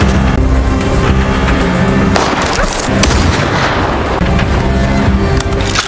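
Gunfire rings out in a film scene, a dense run of loud cracks and booms over a busy, continuous action soundtrack with no pause throughout.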